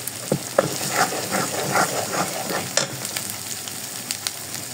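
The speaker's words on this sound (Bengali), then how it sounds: "দিয়ে এখন মশলাটাকে ভালোভাবে কষাবো।" Spice paste of chili powder, turmeric and salt sizzles and fries in a pan, a loud crackling hiss with stirring scrapes and a few sharp pops, no talking.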